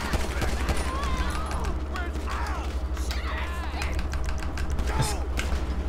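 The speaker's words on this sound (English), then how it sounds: "Shots are being fired." Rapid gunfire in Grand Theft Auto V with the LSPDFR police mod, dense rattling bursts over a continuous low game rumble, with a voice speaking at times.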